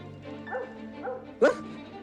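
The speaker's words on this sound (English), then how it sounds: "when the dogs are barking and communicating" Cartoon Dalmatians from a 101 Dalmatians film scene give a few short yips and whimpering barks, with a sharper bark near the end, close and fairly loud.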